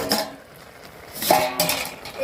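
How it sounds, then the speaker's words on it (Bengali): A metal lid comes off a cooking pot of simmering taro greens and crab with a couple of close clinks and a scrape, brief and fairly loud. "দশ মিনিট পরে ঢাকাটা খুলছি।"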